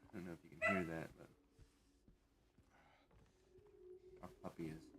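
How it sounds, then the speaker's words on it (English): A puppy indoors barks and yips in a few short bursts, with faint whimpers between them, close to the microphone and fairly quiet against a low background hum. "our puppy is barking"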